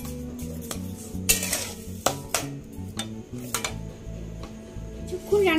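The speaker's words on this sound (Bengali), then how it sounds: "এবার এটা মাঝে মাঝে নাড়াচাড়া করে রান্না করে নিতে হবে।" Homemade tomato chutney cooking in a pan and stirred now and then: repeated clinks and scrapes of a spoon against the pot in an irregular rhythm, close and fairly loud, with a faint sizzle beneath and some background speech.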